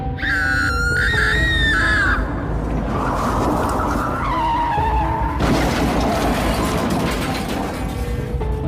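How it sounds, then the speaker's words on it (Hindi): A jeep crashes and rolls over in a horror-story sound effect: a loud screeching skid and tire squeal give way to grinding, clattering metal and a sustained roaring crash noise, with no voices. "और तभी कुछ ऐसा होता है जिससे कि गुल्ली बुल्ली की जीप पलट जाती है।"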